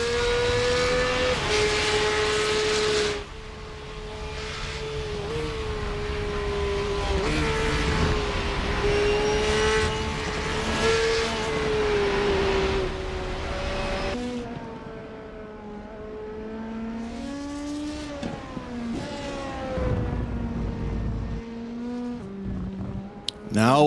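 LMP2 race cars lapping Circuit of the Americas in the iRacing sim, a continuous loud engine whine rising and falling through gear changes, with several cars overlapping and pitch shifting as they pass.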